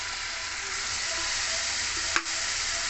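Tofu and vegetables stir-fry in a pan with soy sauce, tomato sauce and vinegar, giving a steady, even sizzle throughout, with one brief sharp tap near the end.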